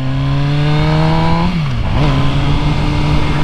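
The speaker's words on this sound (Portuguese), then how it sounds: "essa aqui que é a MV Agusta Brutale 1000RR, uma moto bem rara" An MV Agusta Brutale 1000RR motorcycle engine drones loudly and steadily on a test ride; its pitch briefly dips, as in a gear change, then settles back at a steady tone.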